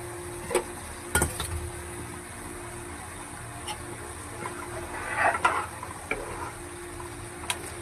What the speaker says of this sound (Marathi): ह्याच्यामध्ये मी आता कोळंबी ॲड करते